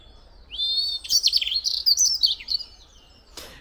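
A robin sings a bright, varied phrase of warbling, high-pitched notes, close and clear against quiet woodland surroundings.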